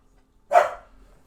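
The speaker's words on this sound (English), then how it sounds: "My dogs are barking, getting crazy." A dog gives a single sharp bark nearby, followed by brief quiet.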